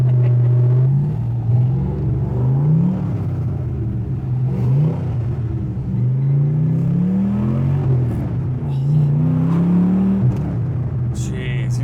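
A widebody Porsche 911 with a swapped LS V8 pulls away after reversing, its deep engine drone loud and close, the revs rising and falling through gear changes over a steady low rumble.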